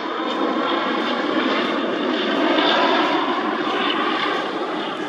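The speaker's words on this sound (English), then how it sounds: "And there it goes, landing at North Island Naval Air Station." A fixed-wing aircraft lands at North Island Naval Air Station in San Diego, its engines giving a loud, steady, broadband roar that swells slightly midway and holds throughout with no talking.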